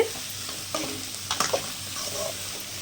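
Onion, green chilli and curry leaves being stirred in hot oil for an egg stir-fry, giving a steady soft sizzle with scraping spoon strokes near the pan, no voices.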